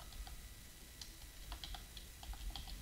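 Computer keyboard keys tap in a short, uneven run of light clicks, close and quiet over faint background hiss.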